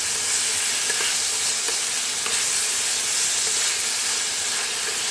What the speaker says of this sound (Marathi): आता कांदे भाजत आले तर ह्याच्यामध्ये ना मी टोमॅटो टाकतो.